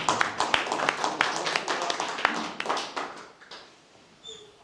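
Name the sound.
audience applause for speaker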